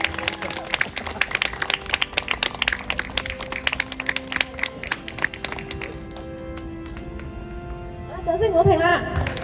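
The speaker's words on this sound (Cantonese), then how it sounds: "各位來賓俾多啲掌聲歡呼聲喎。" Wedding guests in Hong Kong applaud as the bride's veil is lifted, with dense scattered clapping that thins out midway, then voices and tonal sounds rise toward the end.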